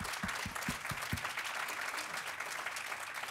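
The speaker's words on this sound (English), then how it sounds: "Can we have a round of applause?" Audience applause at the close of a lecture, a steady broadband clapping wash that holds evenly throughout, with a few low thumps near the start.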